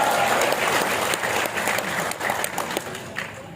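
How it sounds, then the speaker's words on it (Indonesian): An audience at a Natura World motivational business gathering applauds, a loud, continuous spread of many hands clapping that holds steady for several seconds and thins slightly toward the end. "Tepuk tangan."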